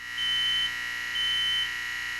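Household smoke detector alarm sounding during a home fire drill, two long, piercing electronic beeps repeating in an even rhythm, loud and close with no talking.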